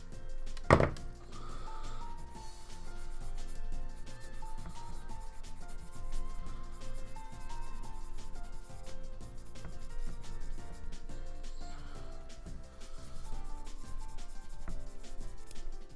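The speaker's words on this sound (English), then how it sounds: "use the nippers, and then we'll sand these down." Plastic Gunpla model kit parts being sanded after nipping, a steady continuous rasping rub that runs close and even throughout, with a faint tonal background.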